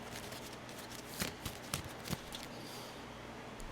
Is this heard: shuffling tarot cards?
yes